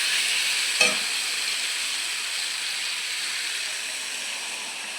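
Food frying in a pan on the stove for a curry, with a steady close sizzle and hiss and a single clunk of a spoon or utensil near the start, without any talking.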